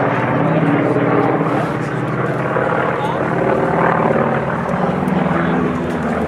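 Aerobatic airplanes perform at the Rocky Mountain Air Show, their engines a loud, continuous roar that swells and fades slightly while an announcer talks over it.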